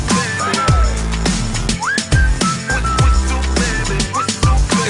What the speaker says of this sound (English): Whistle, baby.